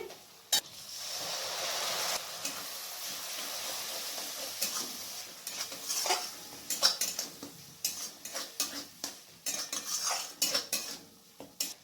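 A metal spoon stirs and scrapes rui fish curry masala in a pan, with irregular clinks and scrapes against the metal over a faint sizzle, growing busier and more rhythmic toward the end.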